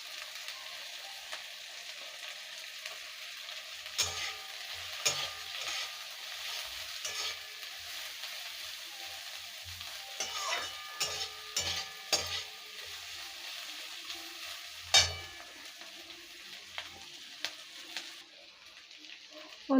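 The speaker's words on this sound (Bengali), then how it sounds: "পেঁয়াজটা খুব বেশি ভাজবো না। এবারে লাল আর সবুজ ক্যাপসিকাম আছে," Onion with red and green capsicum frying in a pan: a steady soft sizzle runs throughout, broken by scattered stirring clatters and scrapes, including a sharper knock near the middle, with no talking.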